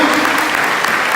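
A church congregation claps for Jesus during a Yom Kippur sermon, a steady dense roar of applause filling the whole short moment.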